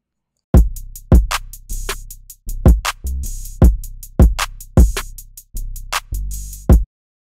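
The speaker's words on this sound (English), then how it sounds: "The 808s we're going to make are going to sound like this." Layered 808 bass notes built in Reason 11 Suite, heard alone as a steady pattern of about a dozen loud, booming hits with sharp attacks and sustained low tails, some notes gliding.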